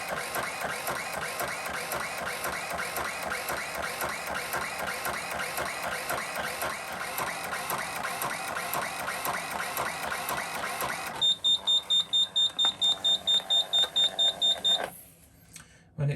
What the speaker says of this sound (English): press CF, which means card forward, and it will read line by line the 150 rows and 60 stitches of this